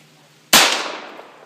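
A Hi-Point .45 pistol fires once, a sharp, loud close report that decays quickly over about a second in open air.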